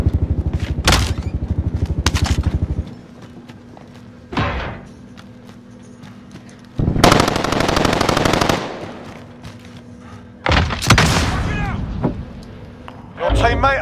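Bursts of automatic gunfire in the Warzone video game, loud and close, come in several long rapid volleys with quiet gaps between them.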